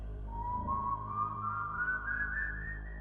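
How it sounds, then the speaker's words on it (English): Someone whistles a slow melody that rises steadily in pitch, clear and sustained over a low rumbling background. "now the son's whistle sounded"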